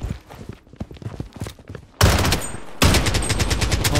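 Shotgun blasts ring out in the shooter Project BloodStrike. Scattered footsteps and light firefight noise are followed by two heavy, loud shots about a second apart, each trailing a dense rattling echo, close and harsh, with no talk.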